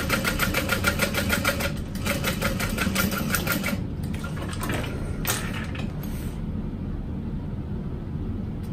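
A sewing machine running a back stitch at stitch length five along a bag's top edge, a fast mechanical rattling whir for several seconds that slows and thins out toward the end, with no voices.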